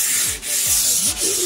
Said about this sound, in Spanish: Lijados y trazos largos para quitar el charoleo lo más que se pueda